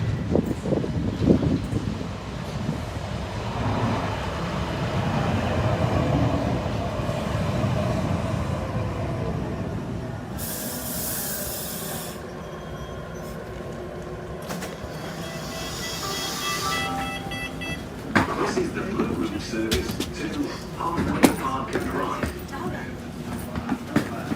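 Sheffield Supertram unit 113 runs in service from Meadowhall toward Halfway park and ride, a continuous rumble of wheels and motor with rising and falling whine, a short high squeal midway and rattles later, while someone talks over it.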